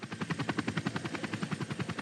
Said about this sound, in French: l'hélicoptère entre dans une faille spectaculaire de 4 km de long.